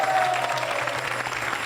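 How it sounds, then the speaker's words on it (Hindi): A crowd claps loudly for a contestant at a Hare Krishna Mission quiz show on Sanatan Dharma, dense applause with a faint tone running underneath, steady and slowly easing off. "तालियां जोरों से बजाइए ख्याति के लिए।"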